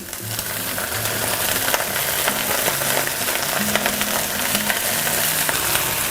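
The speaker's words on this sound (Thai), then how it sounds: "ตอนนี้เราผัดให้เห็ดหอม มันสุกก่อนนะครับ" Shiitake mushrooms and Mexican kale stir-fried in a pan: a steady frying crackle with frequent sharp scrapes and clicks of stirring, close by, over faint low background music.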